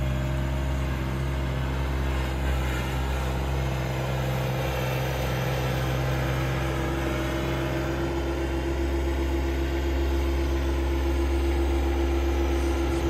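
Low, steady engine drone of a Yanmar SA424 compact tractor climbing a slope runs throughout, loud and close, holding a constant laboring hum without pauses.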